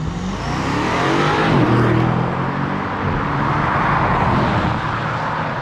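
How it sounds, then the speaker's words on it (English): A throaty Alpina B8 exhaust rises as the car accelerates on the Autobahn, then holds a steady, muffled roar, heard from inside or close by without talking. "Alpinas have a unique exhaust. Throaty, but not too aggressive."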